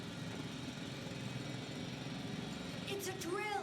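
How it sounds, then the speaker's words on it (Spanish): A portable drill in the video game The Invincible runs as a steady, loud droning whir that holds for the whole stretch, with a few faint chirpy tones near the end. "Taladro portátil."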